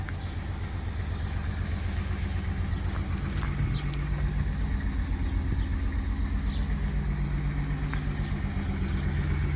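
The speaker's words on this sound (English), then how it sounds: "just driving it in and out of the garage" A V6 widebody car runs steadily as it is driven in and out of a garage, a continuous low engine drone close by with no one talking.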